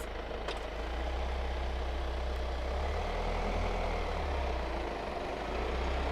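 A 2024 Kia Sorento facelift (European model) creeps forward under remote control from its key, giving a steady low engine hum and rumble that stays even throughout, with no talking.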